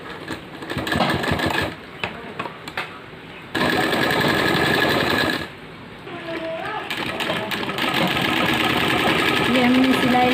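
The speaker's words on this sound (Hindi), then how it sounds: "फिर इस पे हमें स्टिचिंग कर लेनी है।" A sewing machine stitches a folded fabric belt onto narrow plazo pants in runs that start and stop, loud and close, with a voice talking over part of it.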